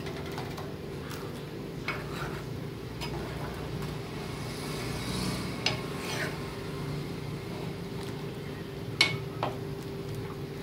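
A spoon stirs buttermilk kadhi in a pan, making soft scraping and occasional light clinks against the metal over a quiet hum, with a few sharper taps scattered through.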